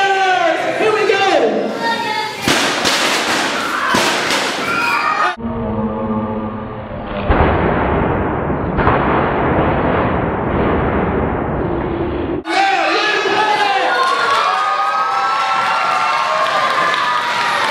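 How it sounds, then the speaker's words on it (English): A chemical-change explosion at a live science demonstration show, heard as a loud, sustained roaring blast that fills the room, followed by a crowd cheering and applauding loudly. "I give you chemical change, potential energy conversion, and explosions in one demonstration"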